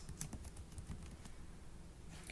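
Computer keys are pressed in a spreadsheet, giving a few quick, faint clicks early on followed by quieter scattered taps against light background hiss.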